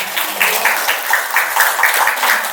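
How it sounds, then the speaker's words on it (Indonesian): Lively applause from an audience at an anniversary celebration event, a steady crackle of many hands clapping together, moderately loud and continuous with no talking over it. "Tepuk tangan yang meriah"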